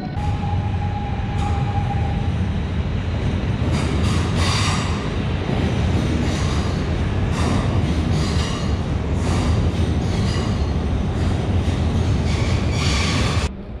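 A Stadler FLIRT Intercity train departs Warsaw Central station with a continuous loud rumble of wheels on rails, squealing steel and rhythmic clatter echoing through the underground platform.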